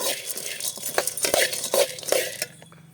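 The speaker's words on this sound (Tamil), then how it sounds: "எல்லாம் வறுபடட்டும் நல்லாவே" Ingredients for a homemade health drink mix roast in a pan while a spoon stirs them, giving a few scattered clinks and scrapes against the metal over a soft, steady background.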